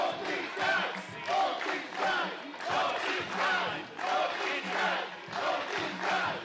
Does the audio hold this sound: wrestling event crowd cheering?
yes